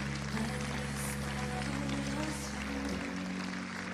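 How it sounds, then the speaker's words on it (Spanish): Dense, continuous applause fills a church congregation, loud and sustained throughout with a voice heard over it. "Denle el aplauso al Señor."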